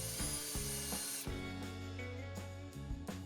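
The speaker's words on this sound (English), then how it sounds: "A dull barrel trimmer chatters, requires more pressure, and can even leave a heavy burr on the brass tube" A dull barrel trimmer cutting the brass tube of a pen blank, with a steady motorized whine carrying harsh, uneven chattering and rasping that shifts in pitch as pressure changes. It sounds close and runs without talking.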